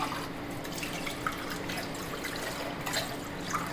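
Water is added to pearl millet (kambu) for a porridge, heard as a soft, fairly quiet trickle and splash running steadily throughout, with no speech.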